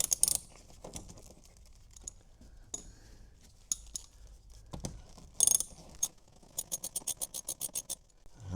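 Bolts are tightened on the front wiring trim of a Fisker Ocean. Quiet, scattered mechanical clicks and scrapes end in a quick rhythmic run of ratchet clicks, close and fairly faint.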